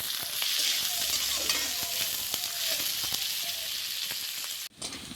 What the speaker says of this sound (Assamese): অকণমান ক্ৰিস্পি কৰি ভাজি ল'ম আচলতে।